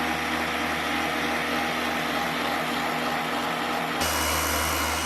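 An electric mixer whips peppermint meringue in a steady, loud whir that runs throughout, rising slightly in pitch and intensity about four seconds in as the speed changes, with no voices.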